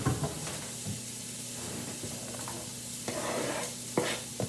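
Chopped green onion sautéing in a pan, a steady sizzle and hiss with occasional scraping stirs and light clinks, close by and moderately quiet, with a low hum underneath and no speech.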